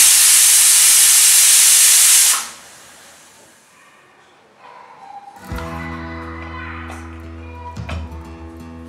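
A pressure cooker cooking moong dal lets out a loud, steady steam whistle that cuts off after about two seconds. Quieter kitchen clatter and clinks follow.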